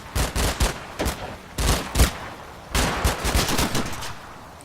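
Thompson submachine gun fire in the Combat Mission wargame, several loud rapid bursts separated by short pauses, close and with no voices.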